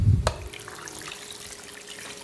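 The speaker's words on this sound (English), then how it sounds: "add some water" Water splashes briefly into a cooking pot of chicken with turmeric, a short pour followed by a faint, thin trickle and low running-water hiss fading into quiet.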